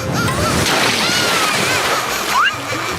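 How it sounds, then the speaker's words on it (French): Cartoon water gushes from an open faucet in a loud splashing, sloshing rush that fills the whole moment, with a brief squeal near the end. "Désolé, Lincoln, j'ai pas réussi à fermer tout le robinet à temps."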